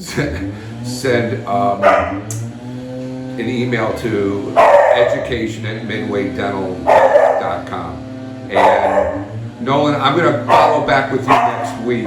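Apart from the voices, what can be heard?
dog barking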